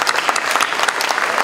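An audience at a plaque presentation applauds, a dense and steady wash of many hands clapping nearby, loud and continuous for the whole short stretch with no voices above it.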